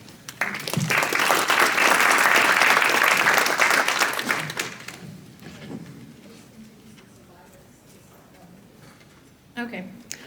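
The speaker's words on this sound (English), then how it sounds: "If you guys want to give him one more round of applause." An audience at a religious freedom summit session breaks into loud, dense applause that swells and then fades after about five seconds, leaving a speaking voice and a brief later flurry of noise.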